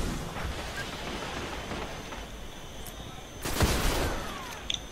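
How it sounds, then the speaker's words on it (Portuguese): A grenade bursts in Destiny's Crucible PvP mode: one sharp, fairly loud blast with a brief crackling tail rises over steady wind-like game ambience, followed by a couple of small clicks. "É granada nossa, então."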